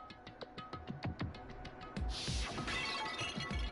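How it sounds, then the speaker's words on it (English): A Monokuma bottle from the Danganronpa game smashes over someone's head, a loud glass shatter at about two seconds with a bright spray of breaking shards, after a rhythmic run of light knocks, with no talk. "I grabbed the Monokuma bottle from the shelf and smashed it across her head."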